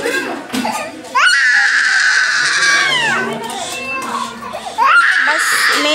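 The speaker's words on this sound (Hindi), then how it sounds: "सुन रहे हैं गाइस बच्चों के रोने की आवाज़ कितना आ रहा है।" Children crying loudly at a crowded temple site during a head-shaving ceremony, wailing cries rising and falling over several seconds amid nearby chatter and general crowd noise.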